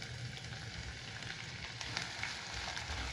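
Finely chopped onion frying in hot oil with whole spices such as cinnamon, a steady, dense sizzle and crackle that stays close and even throughout, with no voices.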